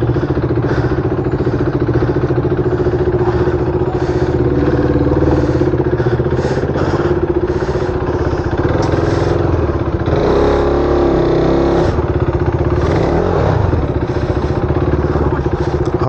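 A motorcycle engine runs steadily close by as the bike is pushed and moved out, a loud continuous low throb with clattering and occasional rises in revs throughout.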